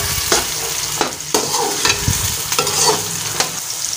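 Sliced okra frying in a pan gives a loud, close sizzle, broken by repeated scraping stirs at irregular intervals.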